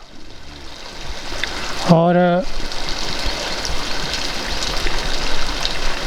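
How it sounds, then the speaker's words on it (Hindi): Water falls and trickles at a sacred site called Sahastradhara in a steady, broadband rushing that carries through the whole stretch, briefly interrupted by a single spoken word. "जैसे ये पानी गिरता है"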